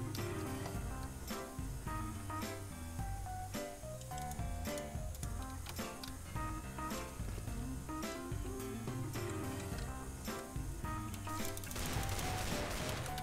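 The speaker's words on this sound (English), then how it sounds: "With that one-shot deagle!" Desert Eagle pistol fire in Counter-Strike: Global Offensive, a string of sharp, loud shots in rapid, uneven bursts amid dense game noise, with a rougher crash near the end.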